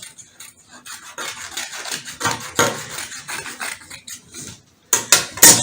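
Fabric being trimmed for a blouse, with close scissor snips and rasping, rubbing cloth sounds in uneven bursts, ending in a few sharper louder cuts.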